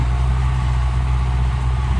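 A tractor engine runs while plowing a rice field, a loud, steady low drone with a constant rumble and no breaks, heard close up.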